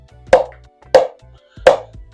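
A SpeedUp Tide hybrid foam pickleball paddle strikes a ball three times at an even pace, each hit a sharp, close hollow pop with a short decay and no talking.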